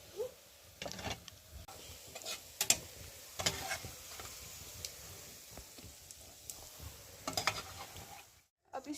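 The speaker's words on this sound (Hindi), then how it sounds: "अभी ऑनियंस फ्राई हो चुके हैं" Onions fry in oil in a pan for a brinjal yakhni, making a soft, continuous sizzle broken by scattered stirring clicks and scrapes, with no one speaking.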